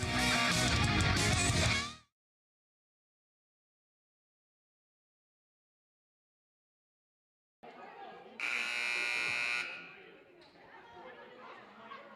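A buzzer at a varsity high school basketball game sounds near the end, one loud sustained tone lasting about a second over a bed of crowd chatter, after a burst of loud noise and a long silence.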